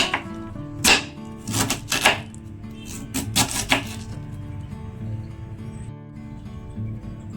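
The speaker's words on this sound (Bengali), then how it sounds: "বাঁধাকপিটা এরকম কুচি কুচি করে কেটে নিতে হবে।" A knife finely shreds cabbage for a Bengali badhakopi ghonto, making a run of crisp, close cutting strokes in irregular clusters that ease off toward the end, over a steady tonal background.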